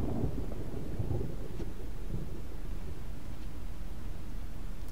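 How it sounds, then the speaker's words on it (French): A thunderstorm rumbles outside in Resident Evil HD Remaster, a steady low roar of rain and thunder with a heavier rumble early on, continuous and without voices. "Toujours l'orage dehors"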